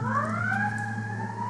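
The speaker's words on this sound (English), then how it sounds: "is that an ambulance?" An ambulance siren passing outside, a loud sustained wailing tone sweeping slowly up and then down, with no talk.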